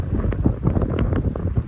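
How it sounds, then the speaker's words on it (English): Heavy wind buffets the microphone outdoors at the Greenville Treaty Line in Union County, Ohio, producing loud, rumbling low-frequency gusts and blustery thumps throughout, with no voices heard. "Here it is extremely windy."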